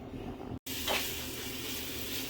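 Vegetables in oil in a pot, cooking with a steady sizzle and frying hiss, a brief dropout, then a stir scraping through the continuous sizzle.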